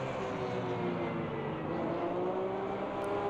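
A Porsche GT3 Cup race car engine in a racing video game drones steadily at high revs, its pitch climbing slowly, with no speech over it.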